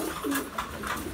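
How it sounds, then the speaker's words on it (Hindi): Pigeons coo softly in a few low, rounded calls from a rooftop loft, a quiet, close bird sound with no talking. "आप अपने कबूतरों को भी देखते हैं दाना पानी खिलाते हुए"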